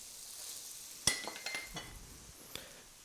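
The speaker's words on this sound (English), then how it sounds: "Now we're going to add in our shrimp." Shrimp go into a hot pan of pad thai, a sharp clink of metal followed by several quick clattering knocks and a light sizzle, close and fairly quiet, with no talking.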